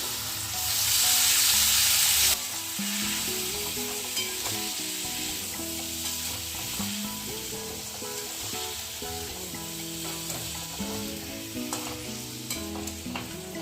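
Chopped banana flower fries with a rohu fish head and spices, a strong sizzle that starts very loud and then settles, with frequent clattering strokes of a spatula against the pan throughout.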